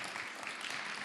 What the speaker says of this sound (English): Round of applause for Lucas.